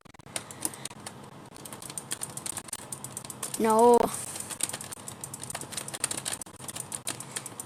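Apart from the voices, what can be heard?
rapid typing on a computer keyboard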